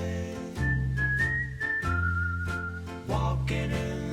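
A person whistles a tune over a backing track of piano and drums. The whistled melody holds long notes that slide between pitches, clear and fairly close.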